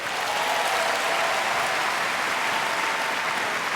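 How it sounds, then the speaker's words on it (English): A large fan convention crowd at a Star Wars celebration claps and cheers in a dense, uniform roar for the whole stretch, loud and unbroken, without a single clap standing out. "If you like number one, give us some applause."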